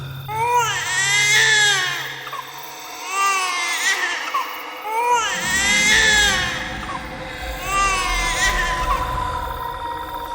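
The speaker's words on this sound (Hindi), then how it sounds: "एक बच्चा रो रहा था।" A baby cries in repeated wailing bursts, loud and close, with rising and falling sobs separated by short breaths, set against a low rumbling drone in a horror story.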